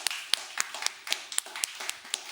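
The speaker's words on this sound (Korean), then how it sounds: "우리 수고하는 임원들 위해서 좀 박수 한번 줍시다." A church congregation clapping for its officers during a sermon at a retreat-planning mention, a faint, evenly spaced run of about nine sharp claps, quiet and fairly distant.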